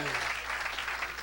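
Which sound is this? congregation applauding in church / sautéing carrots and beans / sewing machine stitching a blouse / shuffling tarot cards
congregation applauding in church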